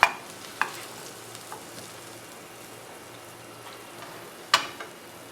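Chicken pieces frying in a pan for a crispy chicken paratha roll, giving a steady low sizzle and hiss with a few sharp clinks and taps of a utensil now and then.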